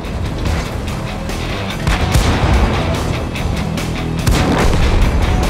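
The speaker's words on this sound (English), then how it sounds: "Enemy artillery tries to avenge the fallen, but doesn't come anywhere close." Artillery fire in a tank battle video game: dense, loud booms and gunfire crackle over a continuous battle rumble, with heavier blasts near two and four seconds.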